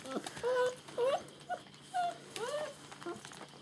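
Young puppies from a litter whine and whimper in a string of high, rising and falling cries, close by and fairly soft, with brief pauses between each whine.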